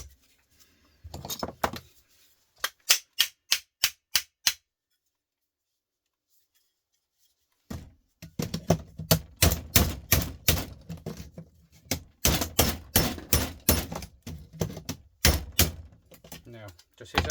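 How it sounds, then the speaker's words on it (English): Sharp metallic hammer blows on an electric motor's outer casing ring out close up, first in a short burst, then after a pause in long rapid runs of repeated strikes. "Now, just hit the outside like so with a hammer"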